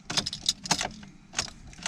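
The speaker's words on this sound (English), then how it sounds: "And let's try the key." A set of car keys jingles and clicks in several short bursts close by as the key goes into the ignition of a car with a dead battery, with no engine cranking or starting.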